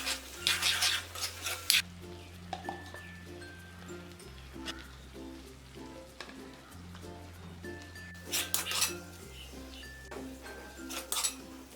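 Cooked prawn roast with curry leaves scraped and stirred out of a pan into a serving dish, with intermittent metallic clinks and scrapes of utensil on cookware, a low steady hum underneath.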